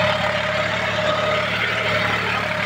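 A John Deere 5105 tractor engine runs steadily at 1500 rpm, a continuous close, loud diesel drone with an even low hum and no change in pitch or surges throughout.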